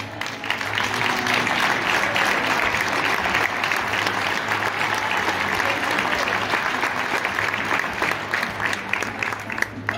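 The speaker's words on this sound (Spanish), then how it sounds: "Ahora sí, fuerte el aplauso." Sustained audience applause at a municipal recognition ceremony, loud, even clapping from many hands that continues throughout, with faint crowd murmur beneath.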